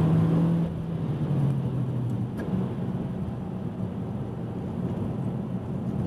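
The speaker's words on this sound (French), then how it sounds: "L'échappement était aussi revu sur une sonorité nettement plus flatteuse." Peugeot 208 GTi 30th hot hatch on a racing circuit, its exhaust note a steady engine drone with a rising tone early on, settling into a continuous mid-level hum at moderate distance, no speech.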